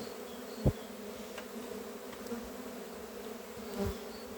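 Honey bees hum steadily around hive frames at an apiary being readied for cold weather, a soft continuous drone with a couple of brief louder passes close by and no talking.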